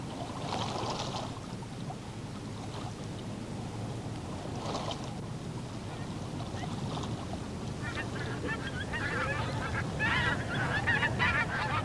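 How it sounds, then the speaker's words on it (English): Geese honking from a distance as they pass overhead in the night sky, flying south, scattered calls over a steady windy rush, growing busier toward the end. "Geese cross the night sky, heading south from their Arctic homelands."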